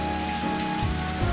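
Rain pours steadily in a dense, even hiss of drops striking a surface, continuous and fairly close, with no voices.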